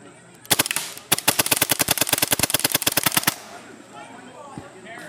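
An AGD Tac-One gun fires about 20 rounds in a rapid burst, a loud, close string of sharp cracks with a brief pause after the first shots, then fading into quiet background noise.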